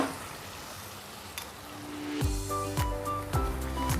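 Paste batter poured into sizzling butter paneer masala in hot oil, a soft frying hiss swelling into louder crackling bursts as it hits the pan, with a few clinks near the end.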